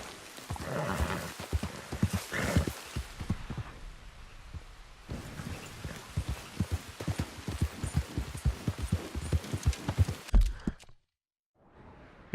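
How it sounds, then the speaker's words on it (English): A horse in Red Dead Redemption II trots along with steady clip-clop hoofbeats and occasional snorting, close and busy for about ten seconds before the sound cuts to near silence. "Random horse."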